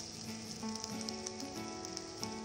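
Chopped onion lightly sautéing in mustard oil for aloo bharta gives a soft, continuous sizzle, faint and steady throughout, with no voices.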